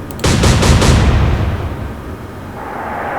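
Warship guns in the naval strategy game Atlantic Fleet fire a loud booming salvo, several rapid heavy blasts in a row, then the rumble fades into a low lingering roar.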